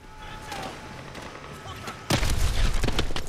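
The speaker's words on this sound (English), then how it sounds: "Whoa, that was an explosion." A sudden loud boom bursts in partway through, followed by rumbling blasts and crackling, after a stretch of quieter ambient game noise in Call of Duty: Advanced Warfare's "The Meltdown" mission.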